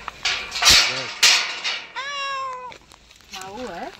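Several clear cat meows, one near 1 s and a longer drawn-out call around 2 to 2.7 s, with a rising meow near the end, mixed with loud bursts of background noise and chatter.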